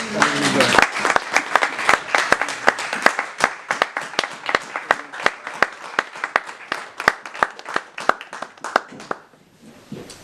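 A church congregation claps along in a steady, rhythmic beat, loud and close, about three claps a second, before the clapping thins out and stops near the end.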